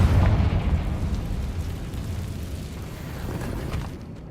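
A Confringo blasting spell explodes in Hogwarts Legacy: a deep, heavy boom at the start, then a long rumbling decay with debris-like crackle that fades over several seconds, with no voices.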